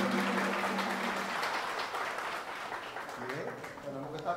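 A Christian family movement gathering breaks into audience clapping, a moderate spread of applause mixed with crowd murmur and some talking in the room, fading slightly over a few seconds.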